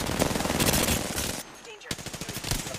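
Rapid automatic gunfire in an Apex Legends match rattles loud and close in dense bursts, pauses briefly, then resumes with rhythmic shots.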